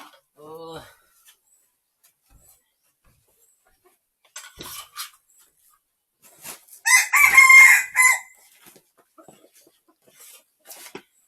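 A rooster crows near the start, followed by bursts of chicken clucking and fowl calls, loudest in a dense cluster late in the clip, with quiet gaps between.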